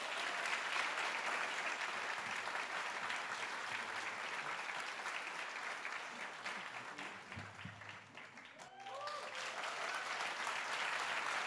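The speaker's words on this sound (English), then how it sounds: "please give them another round of applause" Sustained applause from an audience at a university welcome ceremony, a dense wash of many hands clapping that dips briefly near the end before swelling again.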